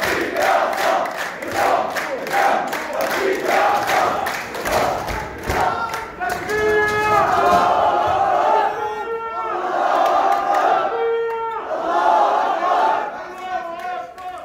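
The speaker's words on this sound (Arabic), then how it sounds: "وهناك بلشت هتافات وشعارات" Crowd of young people chanting slogans in unison in Jerusalem's Old City, loud rhythmic shouted phrases repeating in waves with crowd noise between them.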